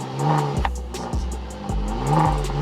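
An Opel car engine revving hard through quick gear changes, a rising whine broken by short shift dips, loud and close with tire noise, no talking.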